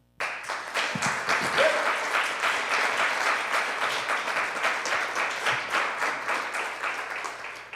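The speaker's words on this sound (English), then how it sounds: "Can we give both of the candidates a round of applause again?" A live audience claps for two candidates after a televised debate-style conversation, with loud, dense applause that starts abruptly and holds steady throughout.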